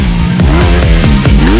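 A 2019 Honda CRF250 motocross bike engine revs hard and close, its pitch rising and dropping in quick repeated bursts like gear shifts under load.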